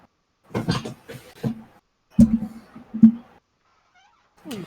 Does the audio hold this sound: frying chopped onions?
no